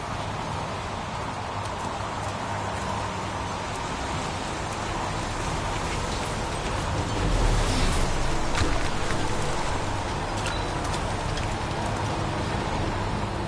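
Steady rain pours down in the PS4 game Heavy Rain, an unbroken hiss that swells slightly midway and has no voices over it.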